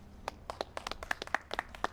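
Someone claps his hands at a Springfield Museums event marking the restoration and completion of the Dr. Philip Kilroy House: a quick, uneven run of about ten sharp claps, close by and with no talk over them.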